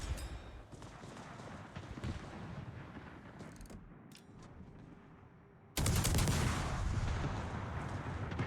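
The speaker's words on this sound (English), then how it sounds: "These guns are very accurate, and they hit hard." Heavy naval gun salvos from warships in the World of Warships game, a dense rumbling barrage that swells into a loud sustained roar of overlapping blasts partway through, with no voices.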